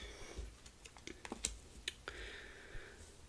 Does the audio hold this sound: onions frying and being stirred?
no